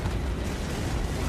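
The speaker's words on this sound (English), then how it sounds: "Torpedo away." A torpedo launch in the naval combat game Battlestations: Midway comes through as a dense, continuous rumbling whoosh, loud and broadband, filling the whole moment without a distinct single hit.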